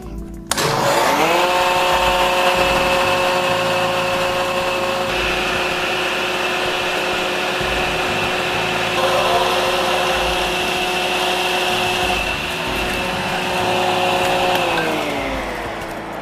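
A Workpaal Lombarte COMBI200SC six-function combination woodworking machine runs at a loud, steady whine as it planes a wooden batten, its motor tone rising quickly at the start and holding constant until winding down near the end.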